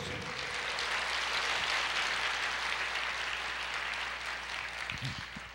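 A church congregation applauding in praise, sustained dense clapping across the whole stretch at a steady moderate level, easing slightly at the close.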